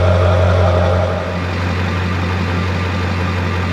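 An old pickup truck engine idles about a foot away, a steady, loud, low rumble with an even hum that holds throughout.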